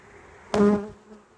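Honey bees at an open hive with larvae, capped brood cells and pollen in the comb; a single short, close buzzing burst rises sharply, then fades into a low background hum.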